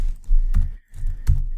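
Keys clack on a computer keyboard in two short bursts around a brief pause, close and moderately loud, as code is typed in for an Android animation tutorial.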